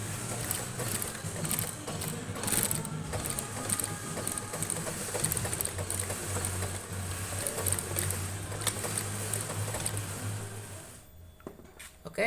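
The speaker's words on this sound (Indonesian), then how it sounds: "yuk kita akan jahit dulu bagian ininya ya." A sewing machine stitches the upper of a high-heel sandal, a fast steady mechanical whir running continuously for about eleven seconds before stopping abruptly, close and fairly loud.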